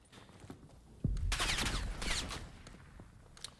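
Bursts of rapid gunfire crackle in a Call of Duty esports shooter match, a dense volley starting abruptly and fading over about a second and a half, followed by a few isolated shots.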